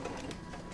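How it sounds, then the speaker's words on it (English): A sewing machine running a short burst of zigzag stitches in place on an appliqué poppy quilt, a steady close mechanical whir with no talking. "Do a couple zigzag stitches in place."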